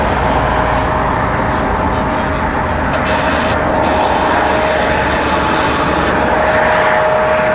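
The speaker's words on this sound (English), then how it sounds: "We've got a CRJ 900LR on the move." A CRJ 900LR regional jet moves at Raleigh-Durham International Airport. Its loud, steady engine roar and broadband rush fill the whole stretch, with a faint constant whine under it.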